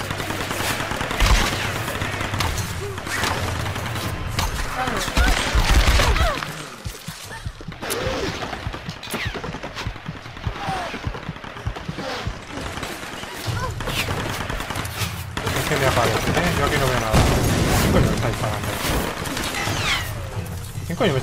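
Gunfire in the video game Tomb Raider, with bursts of rapid shots and booming impacts that come and go in a chaotic fight, while someone talks excitedly over the shooting.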